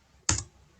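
Computer keyboard keystrokes while entering a ping command in a Windows command prompt during Cisco router setup, a single close, soft key tap followed by the start of another in quiet surroundings.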